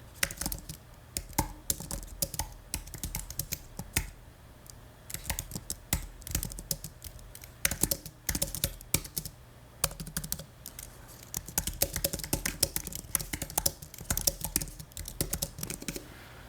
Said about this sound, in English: you can kind of hear what it sounds like when I'm typing on it